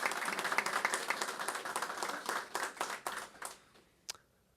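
An audience claps for a public works director at a civic gathering, a moderate burst of applause that thins out and fades after a few seconds, heard from some distance.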